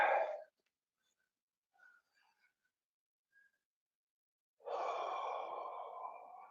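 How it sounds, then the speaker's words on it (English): Long, slow breaths during a stretch, one deep exhale at the start and another drawn-out breath after several seconds of near silence, close and clear. "Long, slow, deliberate breathing."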